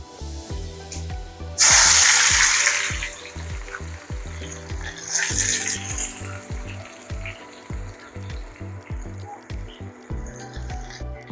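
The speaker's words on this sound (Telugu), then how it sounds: "ఇలా ఆవాలు వేసుకుందాం. అవి చటపట్లు ఆడితే అలా కాసేపు ఆయిల్ హీట్ ఎక్కుంది కాబట్టి" Mustard seeds splutter and pop in hot oil, then sliced onions hit the pan with a loud, steady sizzle that settles into continuous frying, while a rhythmic low thumping keeps going underneath.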